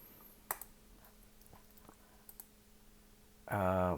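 A computer mouse gives a few faint, scattered right-clicks during 3D hair editing work, as small isolated ticks in a quiet room, before a voice starts speaking at the end.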